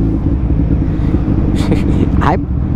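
Suzuki Hayabusa motorcycle engine running steadily with a dense low rumble throughout, close and loud, with a brief rising rev near the end.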